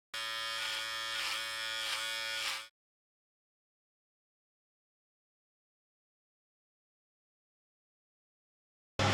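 Cleaning up leaded bronze for a vintage Ariel motorcycle bottom end with a powered tool, a steady high whining buzz for under three seconds, then abrupt silence.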